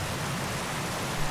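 Rain falling in the Bee Movie video game, a dense, even hiss of downpour that fills the whole moment at steady loudness with no voices.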